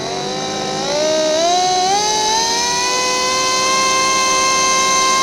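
An electric motor driving a fibre reel inside a pressurised chamber gives a loud, close, steady whine whose pitch rises and settles into a stable harmonic tone, with no talking over it.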